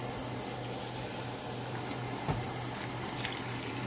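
Water running steadily into a pot of simmering greens in a home kitchen, a soft continuous pour with faint splashes and no talking.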